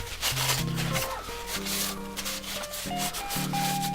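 Sandpaper rubs steadily across a 3D-printed ABS or PLA plastic part in continuous rhythmic strokes, close and fairly loud, while music with a steady beat plays underneath.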